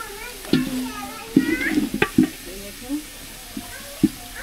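A small spatula stirs onions being fried until browned in a pan, scraping and sizzling in short bursts, while someone talks and children's voices are heard in the background.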